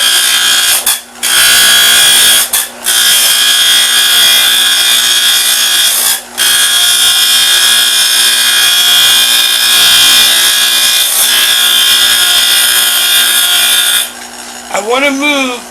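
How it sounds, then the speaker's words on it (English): A bench grinder fitted with a wire wheel cleans the exterior of an Everpure 4CB5 filter housing, giving a loud, continuous abrasive whir with a few brief dips, then winding down at the end. "the best way I find to clean this is on a bench grinder with a wire wheel"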